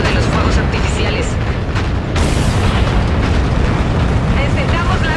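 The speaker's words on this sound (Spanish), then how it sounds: "Vamos a ver la detonación de la torre." Tower detonation in the Call of Duty Infinite Warfare video game: a dense, continuous roaring blast with rumbling debris, loud and sustained throughout, with a sharper surge partway through and no clear talk.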